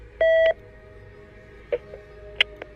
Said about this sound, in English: the call button alarm echoed through the wing again, slower this time, spaced evenly like a heartbeat